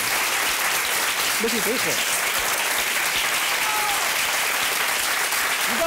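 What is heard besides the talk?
audience applause for Matías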